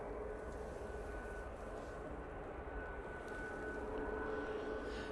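Air France Airbus A380 coming in to land at Manchester Airport, a continuous faint engine roar and rushing drone heard from a distance, steady throughout with no voices.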